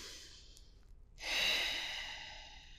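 A single long exhale is heard during a yoga forward fold, following a brief quiet pause. It is soft, close and breathy, and no one speaks.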